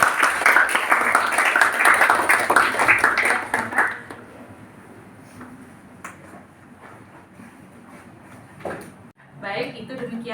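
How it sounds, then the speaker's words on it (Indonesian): A classroom of students applauds a presenting group, dense clapping for about four seconds that fades out, followed by quiet room noise, small knocks and a teacher beginning to speak. "Tepuk tangan untuk kelompok 5"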